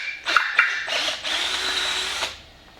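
Power tool grinding a millimetre off a motorcycle wheel rim: short buzzing bursts, then a sustained whine lasting about a second before it stops, close and fairly loud.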